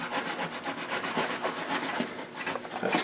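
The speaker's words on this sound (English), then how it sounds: "And I'll actually take my saw and I'll" A hand saw trims a wooden back brace on a guitar, giving a close, rhythmic rasping of short strokes over about three seconds with no voices.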